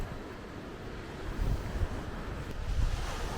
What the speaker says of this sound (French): Ah, c'est beau l'océan.